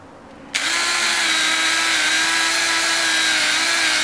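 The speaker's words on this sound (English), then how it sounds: "final piece is just a little polishing wheel" Dremel rotary tool spinning up with a small polishing wheel on rough silver: quiet room, then a sudden high, steady whine that starts near and loud and holds evenly to the end.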